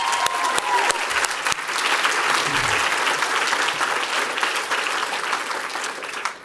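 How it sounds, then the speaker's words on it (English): An audience at a corporate networking talk breaks into a full round of applause, dense sustained clapping from a large crowd that holds steady for several seconds and then tapers off at the end. "So I think that is worth a round of applause."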